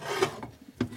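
Faint raspy rubbing of a roller against an adapter inside a 1941 Harley WLD 45 flathead stroker motor being built on the bench, a few short scraping strokes with quiet pauses between them.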